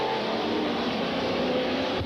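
Super stock race cars run side by side down the main straightaway at Freedom in 1993, a steady loud roar of engines at speed filling the whole stretch.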